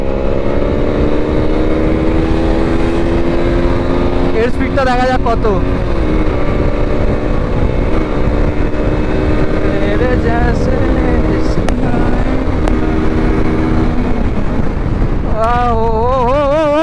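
Bajaj Pulsar N160 motorcycle on a ride with a loud exhaust, a steady droning engine note that rises and falls through gear changes, heavy wind rush over the microphone, and a rider talking over it.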